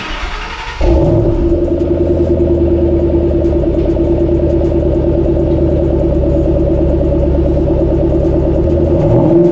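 A Shelby GT500 rumbles loudly and steadily up close after starting, its deep engine note holding with slight surging and a little clatter, no voices over it.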